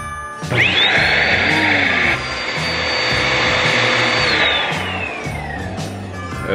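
A repaired vacuum cleaner starts up and runs loudly with a rising whine that holds steady for several seconds, then winds down, alone without talk.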